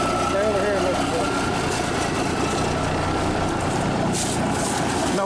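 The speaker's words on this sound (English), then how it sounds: "let me listen to the turbo from this side" A Cummins 350 Big Cam diesel engine runs at a steady idle, its turbo adding a whine over the low rumble, heard close and loud. Voices talk over it.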